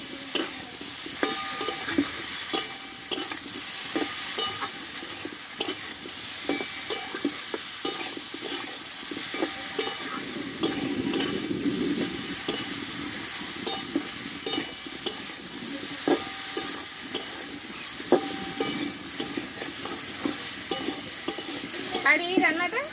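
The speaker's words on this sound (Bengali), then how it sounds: "আর এইখানে দেবো কষে রাখা ডাটাগুলো দেওয়ার পরে মশলার সঙ্গে ভালোভাবে একটু নাড়াচাড়া করে নেবো আমি।" Sajne data (drumstick stalks) stirred with spices in a pan, continuous rhythmic scraping of the spatula over a low steady sizzle, close and moderately loud.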